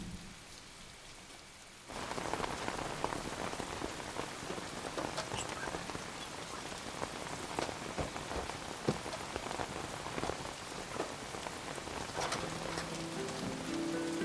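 Steady rain pours down after a quieter opening, drops pattering densely on a surface with no break, no voices.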